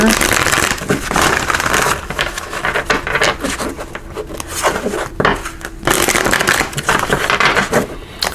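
A deck of tarot cards is shuffled by hand, producing dense, continuous rustling and riffling close up, with short pauses between bursts.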